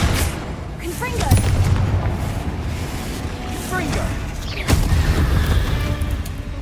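Confringo fire spells blast in Hogwarts Legacy, several loud booming explosions with crackling impacts spread across the moment amid combat noise, while a voice speaks over the action.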